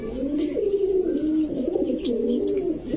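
A pigeon vocalizing right after release, with a loud, continuous low cooing that warbles and pulses near the microphone for the whole stretch, with no talk over it.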